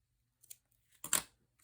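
A length of burlap cording is snipped with scissors in a quiet room: a faint nick, then one loud crisp cut lasting a fraction of a second, alone without talk.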